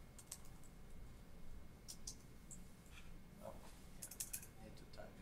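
Soft, scattered keystrokes on a computer keyboard tap out in short irregular runs, quiet and close, over a low background hum.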